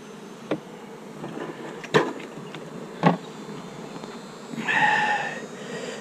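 Honeybees buzz steadily while a nuc hive is being made up in October, with a few sharp knocks of equipment and a brief louder swell of buzzing near the end.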